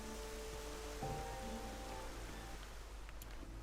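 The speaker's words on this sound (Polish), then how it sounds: "Oj, trochę deszczowa pogoda nam się trafiła." Steady rain in the Horizon Zero Dawn video game, a continuous wash of rainfall with a low hum and faint tonal game sounds underneath, no talk.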